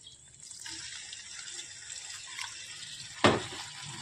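A little water trickles into a pan of mirga fish poppy-seed curry, a soft steady pour followed by a short sharp splash near the end.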